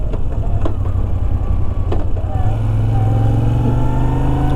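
A Moto Guzzi V7 Racer motorcycle rides along with a steady low engine drone and road rumble, loud and close, with a few brief clicks over the continuous hum.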